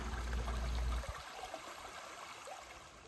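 A creek at a conservation area flows gently in a soft, steady trickle and babble, with a low rumble of wind or handling in the first second before the water carries on alone, faint throughout.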